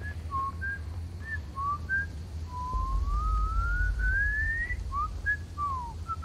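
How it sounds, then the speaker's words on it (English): Whistling in a creepy horror video game, a thin melodic tune of short rising and falling notes with one long upward slide, heard alone over a low rumbling ambient drone. "He's whistling."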